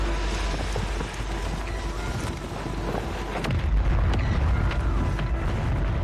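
Mortar strikes in an online multiplayer shooter game: a steady rumbling roar with a heavy, low boom landing midway, followed by continued thundering blasts.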